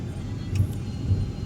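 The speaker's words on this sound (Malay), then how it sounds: "Kita boleh nampak ada banyak kereta yang lalu lalang." Cars rolling past at Pasar Borong Nilai 3 wholesale market, a brief low engine rumble with two soft surges as vehicles go by nearby.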